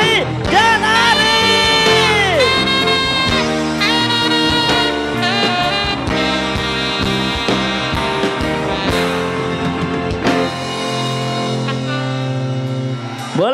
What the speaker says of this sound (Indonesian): Boleh beri tepuk tangan yang paling meriah untuk Devi dan Ari.